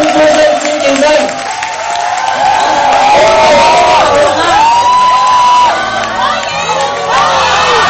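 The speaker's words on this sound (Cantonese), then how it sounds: "係啦，歡呼聲、尖叫聲。" A wedding crowd cheers and screams as the newlyweds enter, a loud continuous roar of shouts and shrill whoops with rising and falling voices that carry on throughout.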